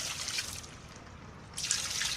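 Water poured onto compressed coconut coir pith makes a soft, steady trickling wash that swells louder toward the end, with no talking over it.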